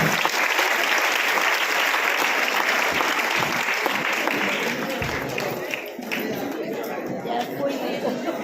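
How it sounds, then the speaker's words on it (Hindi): Loud, dense applause from a crowd honouring a guru at a Safe Shop leadership event in Agra, steady clapping with some chatter, easing slightly toward the end. "एक बार जोरदार तालियां होनी चाहिए गुरु जी के लिए, दमदार वाली गुरु जी के साथ।"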